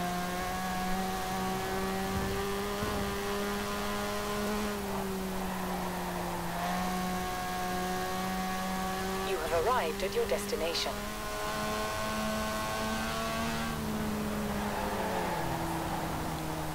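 A steady rotary engine drone from a 1973 Mazda RX-3 in the video game Forza Horizon 4 rises and falls in pitch as it revs past 7,000 RPM, with a synthetic voice announcement partway through.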